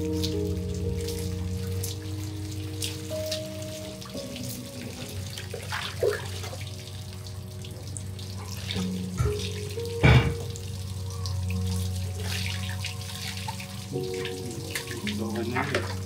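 Water runs steadily from a tap, splashing and pattering nearby for the whole stretch, with a brief louder gush midway and occasional voices talking over it.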